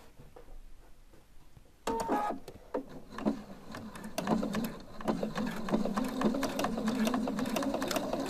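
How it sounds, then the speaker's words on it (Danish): A domestic sewing machine runs a close 2 mm topstitch along the edge of a pressed shirt collar, a steady mechanical whir with rapid needle ticks that starts abruptly after a quiet opening and continues near and loud to the end. "Så har jeg min krave fint presset, og jeg er klar til at sy en pyntestikning rundt."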